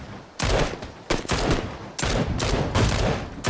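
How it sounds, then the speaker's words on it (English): Gunfire in PUBG: Battlegrounds cracks out in several loud bursts of rapid shots separated by short pauses, sharp and close, with no one talking. "Shots to our southwest."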